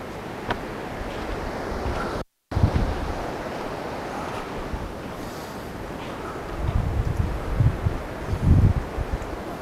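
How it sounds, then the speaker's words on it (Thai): Waves break on a private beach at Hua Hin, a steady wash of surf with heavy wind buffeting the microphone, swelling louder in a few surges near the end, with no one talking. "ถึงทะเลละ"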